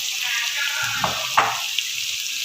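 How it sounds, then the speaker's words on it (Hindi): Pieces of taro root fry in hot ghee in a pan, a continuous sizzling hiss broken by a few sharp crackles and stirring clatters near the middle, close and fairly loud. "अब इस स्टेज पे हमने अरबियों में से पानी निकाल के अरबियों को इसमें भूनना है अच्छी तरह"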